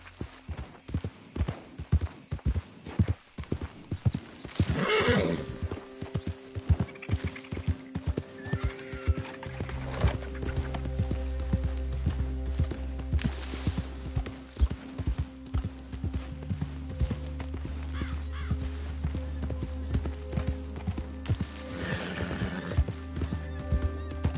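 A horse in the Red Dead Redemption 2 game neighs loudly a few times, its hooves clip-clopping in a steady galloping rhythm at close range, with brief whinnies rising over the continuous hoofbeats.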